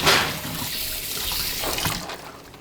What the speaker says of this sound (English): I'll wash my hands quick.